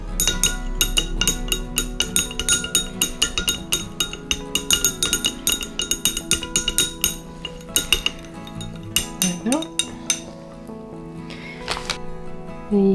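A utensil stirs vitamin E into a homemade hayfever balm, giving steady, close clinking and scraping against a container in a rapid, continuous rhythm with no talk.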